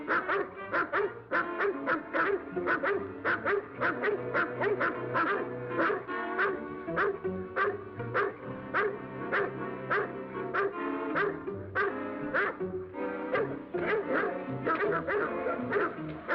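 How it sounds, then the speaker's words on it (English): A pack of dogs barks in a repeated, rhythmic chorus of sharp yaps, loud and continuous with brief pauses, in a 1939 film scene. "Hear those dogs?"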